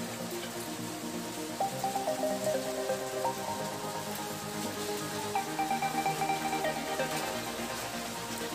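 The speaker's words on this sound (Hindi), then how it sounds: "आज हमारे यहाँ बारिश भी हो रही है" Steady rain patters on surfaces nearby at a village home, a soft continuous hiss with scattered drips, faint tones drifting in the background.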